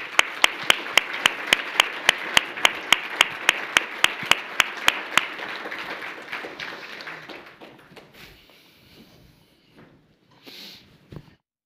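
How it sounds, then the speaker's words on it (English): An audience at a competition-law conference keynote claps for a speaker, a dense burst of applause with sharp regular taps that thins out over several seconds and then falls nearly silent. "A warm applause for Dr. Schwab."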